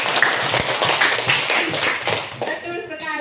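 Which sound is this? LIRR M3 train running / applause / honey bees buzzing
applause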